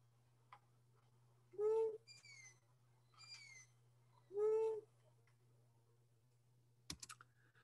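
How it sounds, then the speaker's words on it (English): Owls call at night in the Sangre de Cristo Mountains near Great Sand Dunes, giving a few separate hooting and screechy calls spaced apart over a steady low hum, ending with a sharp click. "you can listen for owls calling in the Sangre de Cristo Mountains"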